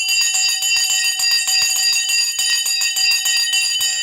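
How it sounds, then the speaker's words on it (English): A stock market opening bell clangs loudly and continuously, a rapid metallic ringing with fast even strikes that carries on unbroken throughout, with no voices over it. "The bell has gone."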